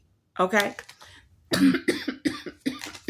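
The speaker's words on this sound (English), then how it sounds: "What is going on with this little bitty cough?" A single cough rings out, followed by a few more short coughs and throat sounds, close and clear, with a brief word spoken.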